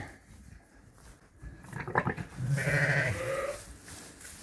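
Sheep and lambs bleating on a farm, a few wavering cries up close that swell in the second half over a noisy outdoor background.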